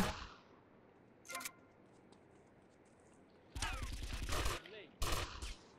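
Bursts of gunfire from GTA Vice City break out after an early single shot, then come as loud clustered rattles with a short pause between them, and a voice is faintly audible in places.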